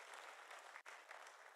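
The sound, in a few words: round of applause for federation president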